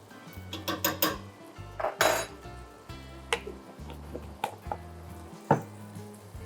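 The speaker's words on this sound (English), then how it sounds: "Give this pasta stir, it's almost ready." Pasta is stirred in a metal pot, a series of close clinks and knocks from a utensil against the pan in an uneven rhythm, with a few sharper scrapes and no voices.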